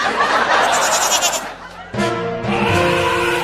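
A cartoon goat bleats in a comic Hindi animation, loud wavering cries in two bursts close up, with a brief pause between them.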